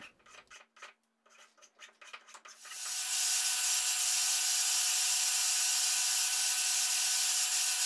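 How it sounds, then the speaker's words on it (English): A belt sander shaping a wooden mallet made from an old Christmas tree. A few rubbing strokes give way to the sander, which starts up into a loud, steady, hissing roar that holds to the end, with no voices. "Since I've got that belt sander out, I'm just going to utilize that."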